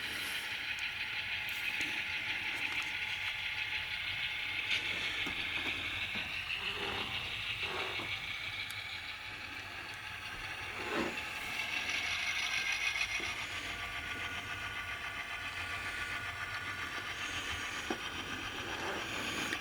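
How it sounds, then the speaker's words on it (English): Athearn Genesis model locomotives run on a Baltimore & Lehigh HO-style home layout, giving a steady, faint hiss and light mechanical rattle of wheels on track that continues throughout with occasional soft clicks. "Are these Athearn locos, Bill"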